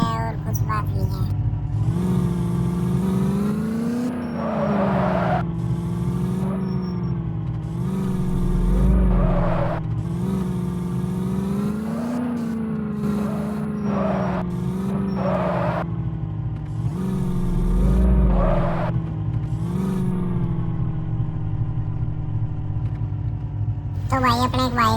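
A Mahindra Scorpio engine hums steadily throughout, a low rumble with tonal harmonics that rise and swell as it revs, close and fairly loud with no talk over it.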